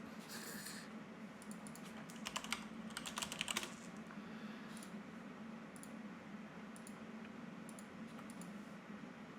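Someone types on a computer keyboard in quick clusters of soft clicks, with a denser burst of keystrokes in the middle, faint under a steady low background hum.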